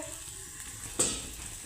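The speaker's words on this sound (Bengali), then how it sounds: "এখন পেঁয়াজটা আমি ভেজে নিচ্ছি" Soft steady sizzling of onion frying in a pan, with one brief scraping clatter of a utensil partway through.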